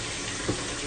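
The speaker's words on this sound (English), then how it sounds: "Let me clean out this knot, and hopefully this knot doesn't fall out." Tap water runs steadily over a Strike Gold shaving brush knot as it is rinsed, a continuous close splashing hiss lasting the whole moment with a slight swell midway.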